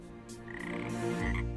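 A single frog croaks close by, a short raspy call rising in loudness over a second and a half with no talk over it.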